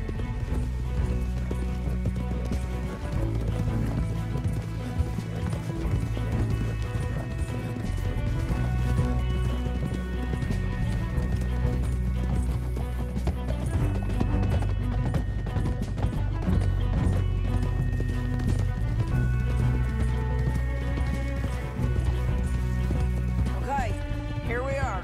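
Galloping horses in the video game Red Dead Redemption 2, a steady run of hoofbeats lasting throughout at an even loudness, mixed with music and voices talking over it.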